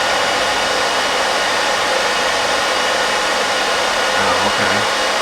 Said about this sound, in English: I feel like the hairdryer is fairly hot